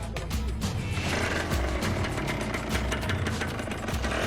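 A small motorcycle engine, heavily loaded with fuel canisters near a hill by a port, runs steadily at a low rumble throughout, loud and continuous with some mechanical rattle and no talk.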